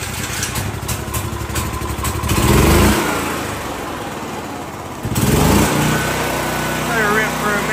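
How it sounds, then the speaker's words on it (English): A portable generator's small engine starts up with the choke on, set up after a hurricane: a loud, close, rough running drone that surges and eases, with voices talking over it. "Got the generator hooked up. Get the choke on here."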